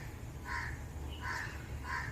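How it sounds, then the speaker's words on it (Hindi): Three harsh crow caws repeat at a steady pace over a constant low hum, moderately near and clear, with no talking. "कौवा बोल रहा है"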